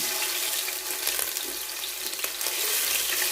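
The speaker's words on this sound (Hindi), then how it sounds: "इसको हम लहसुन और अदरक को भूनेंगे" Steady, hissing sizzle of garlic and ginger paste frying in hot oil for biryani, close and continuous, with a few faint scrapes of a spoon.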